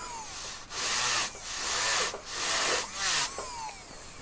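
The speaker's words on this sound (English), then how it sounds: "I'm trying to buff in there" A bristle brush buffs a metal jewelry casting in several scratchy rubbing strokes, each a loud, close burst of hiss lasting about half a second, separated by short quieter gaps.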